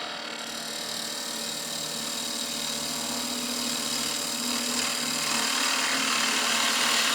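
A lathe tool shaves a wooden spinning top as it turns, a steady close scraping hiss that swells slightly toward the end, with no talk.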